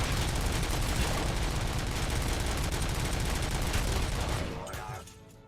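Full-auto gunfire from a weapon with infinite ammo in the video game Robocop: Rogue City hammers out a loud, continuous fusillade of rapid shots, then tapers off near the end.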